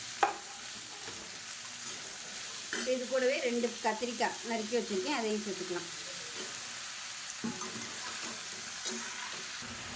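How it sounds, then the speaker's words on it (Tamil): Soft sizzling and scraping of vegetables being sautéed and stirred in a hot pan for Tamil-style sambar, with a person speaking briefly in Tamil over the cooking. "இப்போ இதையும் சேர்த்து வதக்கிக்குவோம்."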